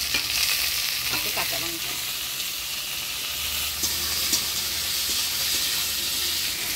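Potatoes fry in hot oil with black cumin and chopped onion, giving a steady, close sizzle with stirring sounds, while a voice speaks briefly.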